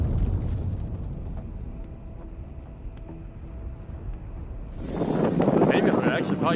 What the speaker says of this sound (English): approximately 30 tons of the stored ammonium nitrate detonated, causing a massive explosion